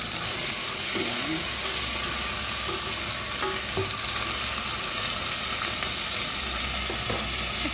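Chili, onion, ginger and garlic sautéing in a pan for chicken feet adobo, a constant loud sizzle with occasional spatula scrapes and clicks as the mix is stirred.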